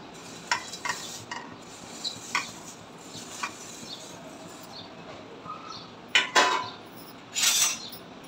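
Vermicelli (shevaya) goes into a pot of boiling water with a little oil and is stirred, giving soft scattered clinks and scrapes of a spoon against the pot over a low bubbling hiss, with a louder clatter near the end.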